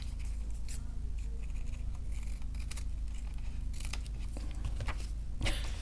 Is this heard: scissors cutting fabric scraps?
yes